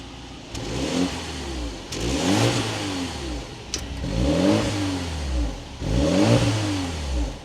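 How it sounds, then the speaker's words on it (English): A 2025 BMW 330i's 4-cylinder turbo engine starts and then revs repeatedly: about four throttle blips rise and fall in a steady rhythm, recorded close up with no talking. "let's start this up now. Take a listen to that 4-cylinder turbo."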